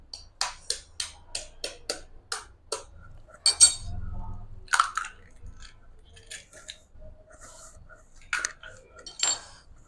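An egg being cracked into a dish and mixed for egg aloo bullet, with a run of sharp clinks of a utensil against the bowl, then softer stirring and scraping close by.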